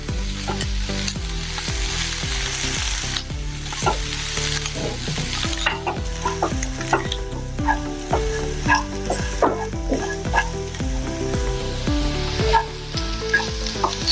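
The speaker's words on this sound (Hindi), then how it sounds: "हमने अदरक और लहसुन को 1 मिनट भून लिया है।" Chopped ginger and garlic frying in a pan for oats upma, with a steady close sizzle broken by frequent scraping and clacking strokes of the stirring spoon, no talking.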